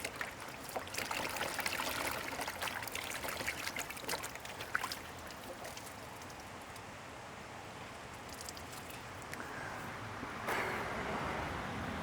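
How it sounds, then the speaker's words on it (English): Water from a stream runs steadily through an off-grid DIY supply line, a continuous broadband trickling and rushing that fills the whole clip at an even level, with light rustling and small knocks now and then. "There is flowing water."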